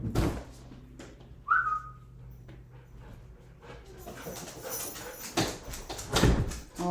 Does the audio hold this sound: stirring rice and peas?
no